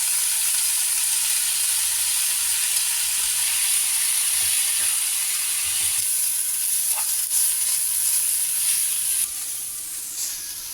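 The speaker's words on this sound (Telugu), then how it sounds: "ఈ మెంతి కూరని ఫ్రై చేసుకోవాలి." Fenugreek leaves fry in a pan with a steady, loud, hissing sizzle that runs unbroken, with faint stirring touches and a slight drop in level near the end, no voices.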